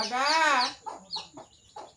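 A chicken clucking close by in a village yard, one long loud squawk followed by several short clucks in quick succession.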